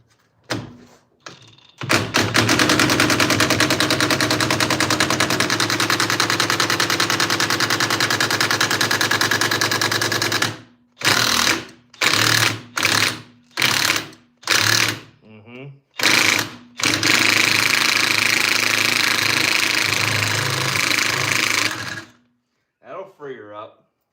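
A pneumatic impact wrench hammers in a long loud burst, then in several short rattling bursts separated by brief pauses, working on a Ford F-150 truck.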